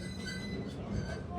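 An amusement park train at Cedar Point rolling along its rails, giving a steady, continuous rumble with faint metallic wheel tones throughout, close and fairly loud, with some voices mixed in.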